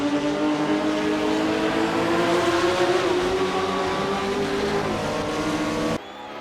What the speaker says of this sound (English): Fangio and Castellotti launched off the line together